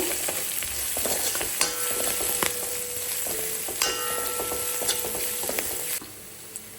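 Food bubbles and sizzles in a pan while a utensil stirs and scrapes, with clinks and taps against the metal over a steady frying hiss, close and fairly loud, with no talk.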